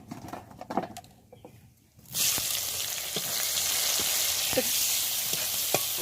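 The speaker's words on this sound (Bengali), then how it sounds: "লবঙ্গ দারচিনি গোটা জিরে এক চামচ দুটো তেজপাতা ফোড়নটাকে নাড়াচাড়া করে নেব" Whole cloves, cinnamon, cumin and bay leaves hit hot oil after some soft clatter, bursting into a loud steady sizzle that carries on with a few stirring scrapes, with no voices.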